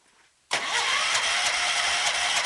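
A Cub Cadet 128 pulling tractor running on 100 octane fuel cranks and catches abruptly, then settles into a loud, steady, close-up engine roar with a rough, busy texture that holds without a break.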